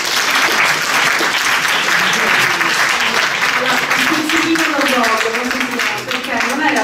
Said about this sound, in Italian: Un applauso perché